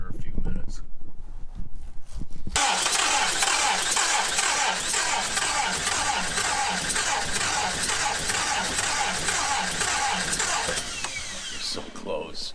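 Triumph car engine cranking on the starter, a loud continuous rhythmic churning that runs for about ten seconds after a short quiet start, then stops briefly near the end.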